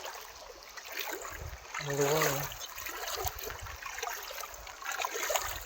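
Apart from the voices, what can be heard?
rushing floodwater in a small river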